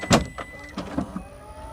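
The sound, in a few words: power tailgate raising on 2025 Toyota Tacoma TRD Pro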